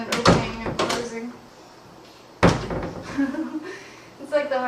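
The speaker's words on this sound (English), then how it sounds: "That you condition the noise of the door" Door being opened and closed during dog training at home, heard as two sharp thuds a couple of seconds apart, close and fairly loud, with a voice talking between and after them.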